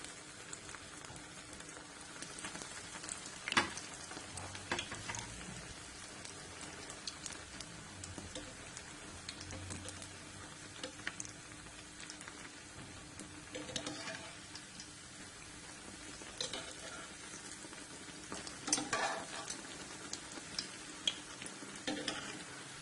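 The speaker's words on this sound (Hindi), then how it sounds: "अब मैंने जो 1 कप ऑयल लिया था उसको मैंने गरम कर लिया है मीडियम फ्लेम पे। तो अब इसको जो है इसके अंदर मैं ब्रेड के स्लाइसेस डालूंगी और उन्हें फ्राई कर लूंगी।" Bread slices frying in a cup of oil heated over a medium flame, a steady low crackling sizzle with scattered sharper pops, fairly quiet and continuous, with no talking.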